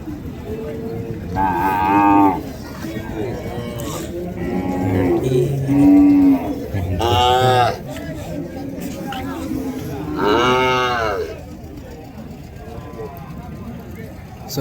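Calves at a bustling cattle market in Kundarapalli, repeatedly mooing in loud, drawn-out bleats, several calls close by over a steady background of crowd chatter and people talking.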